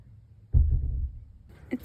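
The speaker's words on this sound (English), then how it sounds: "that is the sound of our mooring bolt banging against our hull" A mooring bolt thuds against a sailboat's hull at anchor in the Virgin Islands, a single low dull knock lasting about half a second, fairly quiet.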